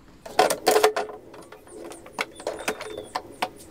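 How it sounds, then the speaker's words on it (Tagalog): An Epson L3210 printer working through a print job, giving off quick clicking, ratcheting mechanical clatter in irregular bursts, close and fairly loud with no talking. "Try na natin mag-print."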